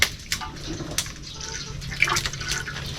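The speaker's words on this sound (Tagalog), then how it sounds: "Hugasan natin dahon ng ating papaya." Papaya leaves are rinsed in water by hand, with close splashes and drips and a few sharper sloshes at irregular intervals.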